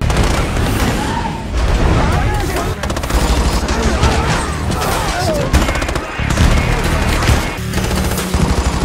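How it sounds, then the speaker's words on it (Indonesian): In an action film, a squad fires on a defence minister's plane: sustained automatic gunfire bursts with booming impacts, loud and dense throughout, with a voice talking over it in places. "Ben dan pasukan langsung memberondong pesawat si Menteri dengan tembakan"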